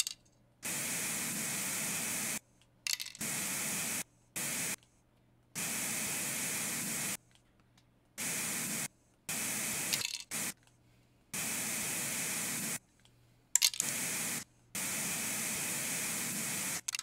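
Spray paint hisses from a can laying down a graffiti tag in the Kingspray graffiti game, coming in about ten separate bursts of steady hissing broken by short silent gaps, close and alone.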